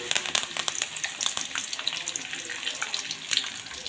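Paneer and curry leaves frying in oil for lemon rice give a loud, dense, crackling sizzle with sharp pops, heard up close and without talk.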